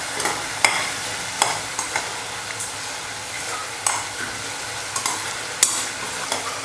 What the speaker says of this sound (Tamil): அந்த அளவுக்கு நம்ம வெங்காயம் தக்காளி வதக்கிக்கணும்.